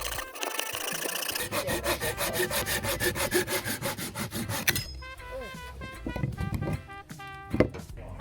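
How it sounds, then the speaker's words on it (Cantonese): A Conifer Cone butterfly folding saw cuts through firewood at a campsite, with fast rhythmic rasping back-and-forth strokes, loud and close, then slower scraping strokes and a few knocks, without talk. "Conifer Con 呢把就好用啲，我覺得好鋸啲。"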